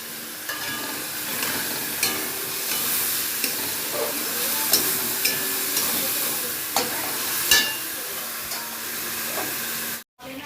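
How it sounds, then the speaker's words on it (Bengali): A ginger, garlic, chili and tomato paste fries in a pan with a constant hissing sizzle. Light, regularly spaced spatula taps run through it, and the sound cuts out briefly near the end. "এবার এই মশলাটা দিয়ে একটু কষাবো।"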